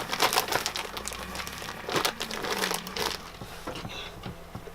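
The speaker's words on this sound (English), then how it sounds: "I'm going to put it back in the plastic bag." A plastic bag crinkles and crumples close by while homemade cannoli dough is handled, giving irregular bursts of crackling for several seconds with no talking.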